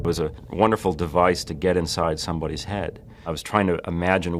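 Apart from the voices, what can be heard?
None of the usual background noises is heard.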